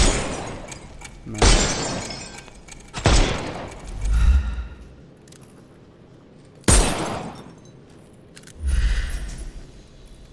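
Pistol shots in Sherlock Holmes Chapter One on PS5: four sharp, loud cracks spaced a few seconds apart, each with a crashing, shattering tail and a low thump, with a brief spoken word between them.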